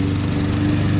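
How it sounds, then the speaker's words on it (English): A push lawnmower runs close by on wet grass after heavy rain, its small engine making a loud, steady drone with no break and no talk. "why we use the push lawnmower for this area"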